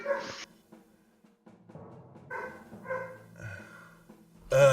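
A dog gives a few separated barks and yips, fairly close and loud, with short quiet gaps between them and a sharper final bark at the end, no talking.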